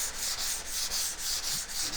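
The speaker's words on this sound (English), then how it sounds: "the process for sanding the body to expose some of the highs and lows" A foam sanding block rubs across a soft aluminium drag bike body in quick, even back-and-forth strokes, a faint, hissy scrubbing with a regular rhythm and no talking.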